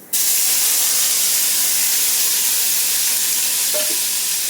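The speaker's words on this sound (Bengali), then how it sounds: "রান্না হচ্ছে উচ্ছে ভাজা।" Sliced bitter gourd dropping into hot oil with nigella seeds, a loud steady hiss and sizzle that rushes in at once and holds, with a faint clink near the end.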